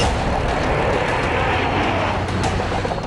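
Military fighter jets and helicopters at an Indian Air Force forward base in Ladakh produce a loud, continuous broadband engine roar with a rumbling low end that holds steady throughout, no voices.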